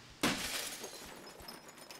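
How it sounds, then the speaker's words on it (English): Glass shattering in the horror video game Fears to Fathom, a single sudden crash of breaking glass followed by scattered tinkling fragments fading out. "Will there be like glass shattering?"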